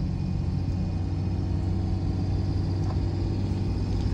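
A Cummins-powered Ram truck with a 48RE automatic transmission cruising at low throttle, a steady low diesel rumble with a faint whine, constant and even throughout.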